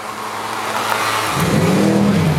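Ford Mustang drag race cars at Grand Bend Motorplex rev loudly and steadily, the engine pitch climbing and holding strong in the second half, with no talk over it.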